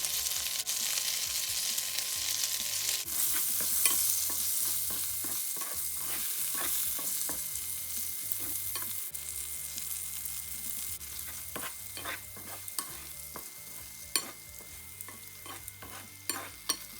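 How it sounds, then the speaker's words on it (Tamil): Eggplant and fried onions being tossed in oil, a low, steady sizzle punctuated by repeated close scraping and clinking strokes of a spoon against the pan. "எல்லாத்தையும் பிரட்டி போட்டு இந்த பொரித்து வச்ச வெங்காயத்தை கொஞ்சம் கொஞ்சமாக போட்டு எல்லாம் பிரட்டி எடுத்தால்"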